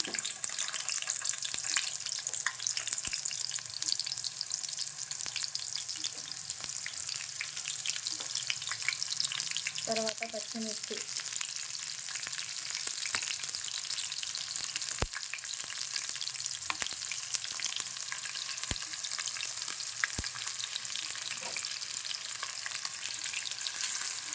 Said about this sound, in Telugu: ఇప్పుడు ఆయిల్ అనేది బాగా వేడెక్కింది ఇప్పుడు నేను కట్ చేసిన ఉల్లిపాయలు వేస్తున్నాను